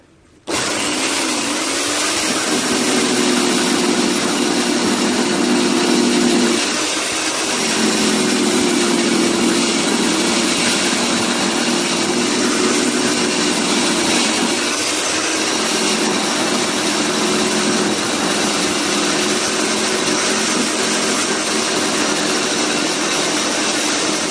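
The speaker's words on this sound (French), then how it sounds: "faire voir comment ça va bien cette fameuse lime" Electric power file grinding metal while building a sandblasting station, a loud, steady high whine that keeps running with slight dips in pitch as it bites into the work.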